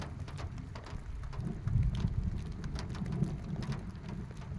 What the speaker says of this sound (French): En plus, ça gronde là-haut.